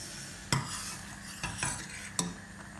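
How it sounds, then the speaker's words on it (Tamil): A spoon stirs sago into boiling milk in a pot, with a few sharp knocks against the pot's side spaced over a quiet background of gentle bubbling and simmering. "பால் இப்போ நான் கொதிச்சுட்டு நான் இதுக்குள்ளே இப்போ சவ்வரிசியை போடுறேன்."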